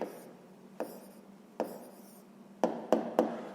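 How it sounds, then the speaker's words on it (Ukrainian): Pen writing down a maths answer on paper, faint scratching strokes with several sharp taps, the last three coming quickly together, close and quiet. "Записуємо відповідь"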